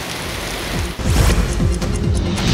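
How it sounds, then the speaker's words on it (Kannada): Heavy rain lashing down in a strong gale in Gir Somnath, a dense, loud, steady roar of downpour with buffeting gusts swelling through it, no voices. "ಇನ್ನು ಗಿರ್ ಸೋಮನಾಥ ಪ್ರದೇಶದಲ್ಲೂ ಬಿರುಗಾಳಿ ಸಮೇತ ಭಾರಿ ಮಳೆಯಾಗ್ತಿದೆ."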